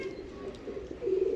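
A large pigeon of a prized breed coos close by in a short, soft, low throaty call that swells at the end, with no talk over it.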